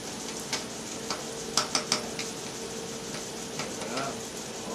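Garlic sizzles in hot oil in a pan for Puerto Rican arroz con gandules, a steady close frying hiss with a quick run of sharp utensil clicks in the middle.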